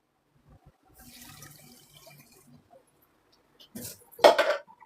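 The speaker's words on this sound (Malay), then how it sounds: "Tambahkan air." Faint kitchen clatter, then a short splashing rush of water poured into a pot of palm sugar, salt and pandan leaves, fairly close.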